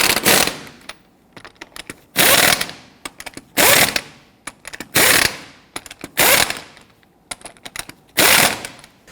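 Bursts of an impact or ratchet tool spin lug nuts snug on a Hummer H3 front wheel. Several loud, sharp rattling runs of about half a second are separated by quieter gaps with small clicks.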